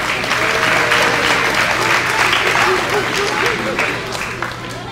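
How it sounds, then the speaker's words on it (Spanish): Guests at a quinceañera celebration applaud loudly and continuously, a dense, sustained roar of clapping from a crowd filling the room, with a low hum and voices faintly underneath. "Que se escuchen los aplausos nuevamente."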